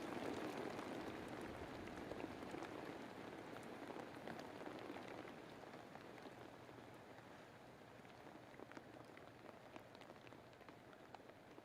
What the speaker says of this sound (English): That rain getting very loud now.